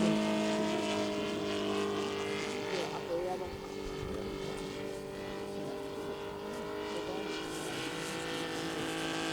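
A large-scale model Mitsubishi A6M5 Zero flies at an engine festival, its glow-plug engine giving a steady, droning whine that holds throughout, while someone talks quietly in the background.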